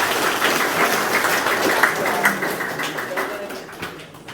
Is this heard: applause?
yes